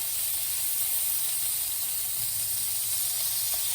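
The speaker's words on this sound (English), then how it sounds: "Now we're going to toss in our butter." Butter sizzles in a hot pan alongside a steak, a steady, loud broadband hiss that holds unbroken and close throughout, with no talking.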